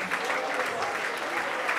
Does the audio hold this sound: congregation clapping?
yes